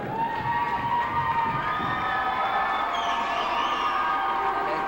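A hometown crowd at a 1987 Chariho versus Westerly high school basketball game roars and cheers continuously as the Chariho Chargers are introduced, with shrill youthful shouts rising over the sustained din.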